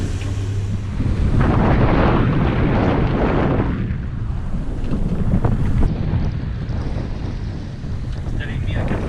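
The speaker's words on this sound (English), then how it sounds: "We are having a consistent 30 knots, and that was not in the forecast." Strong, steady 30-knot wind roars across the microphone on a sailboat in the Indian Ocean, with rushing water and waves slapping the hull throughout.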